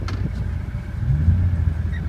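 Vehicle creeping forward in four-wheel drive low range, a steady low engine rumble that swells slightly toward the end, close and continuous with no talk.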